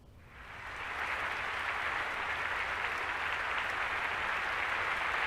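Applause from a theater audience on opening night in a visual novel game scene. It swells up within the first second into a dense, steady crowd clapping that holds evenly to the end, with no voices over it.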